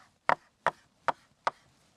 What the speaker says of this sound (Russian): Немножко подкрошу сюда свежей петрушки.